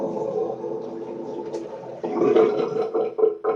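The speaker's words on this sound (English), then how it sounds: "I just need to drain some water" Water draining from a sink during a shave with an Italian slant razor, a gurgling, trickling flow close by that swells louder midway.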